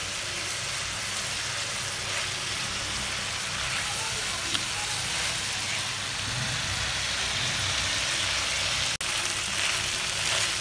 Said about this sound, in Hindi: अब हम इसको अच्छे तरीके से भून लेंगे ताकि हमारा चिकन गल जाए।